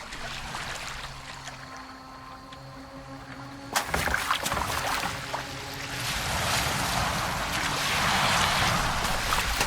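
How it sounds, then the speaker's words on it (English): A boat moves through water in Assassin's Creed Valhalla, with a steady wash of water and splashing that swells louder partway through, over a faint tonal music bed. "Are you well enough to steer this boat?"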